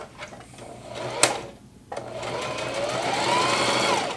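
A Singer HD sewing machine stitches through 1000D fabric, running in a short burst with a sharp click, a brief pause, then a sustained whirring run that rises in pitch.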